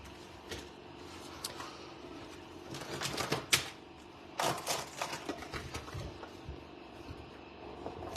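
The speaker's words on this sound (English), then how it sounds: "Now I'm going to take my embossing tool. I'm sorry, my cutting and embossing machine." A die cutting and embossing machine running, with a faint steady mechanical hum broken by clustered clicks and clacks, some sharper and louder.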